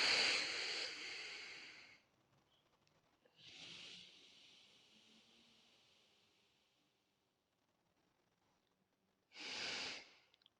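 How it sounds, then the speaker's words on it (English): Anulom Vilom alternate nostril breathing: slow, soft nasal breaths with airy hiss, a strong exhale at the start, a gentler one around four seconds and another near ten seconds, separated by quiet pauses. "while doing Anulom Vilom, alternate nostril breathing"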